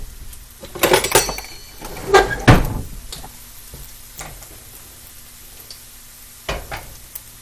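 Cornbread hoecakes frying in a pan, with a low sizzle running under several sharp clanks and scrapes of a utensil against the pan, loudest in the first three seconds, then quieter with one more knock near the end.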